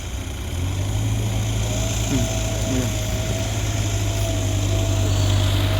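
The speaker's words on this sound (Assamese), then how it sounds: "ট্ৰেক্টৰ গৈ আছে, মাটি কাটি লৈ গৈ আছে।" A tractor hauling cut soil on the bank of the Brahmaputra runs with a continuous low, droning engine throughout, with a faint higher whine on top and no talking.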